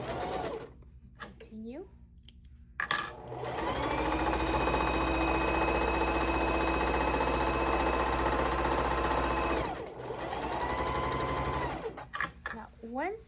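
Household sewing machine stitching fabric for a pillowcase, a loud steady whirring run lasting several seconds between short pauses, with a person talking over the start and end.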